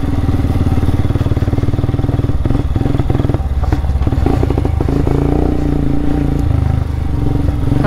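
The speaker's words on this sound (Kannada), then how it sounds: "ನನ್ನ ಗಾಡಿ ಯಾಕೆ ಬಗ್ ಬಗ್ ಅಂತೈತೆ?" A motorcycle engine runs close and loud with a rough, uneven sputtering beat and rattling clatter throughout, no talk heard.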